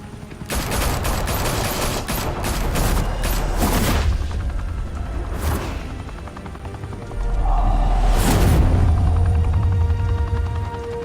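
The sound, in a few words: gunfire from video game Batman: The Telltale Series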